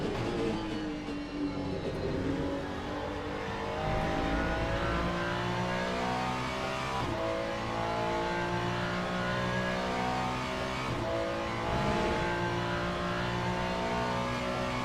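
An LMGT3 race car engine in the video game Le Mans Ultimate runs steadily and loudly, its droning tone rising and falling through gear shifts across the whole stretch, with no talking over it.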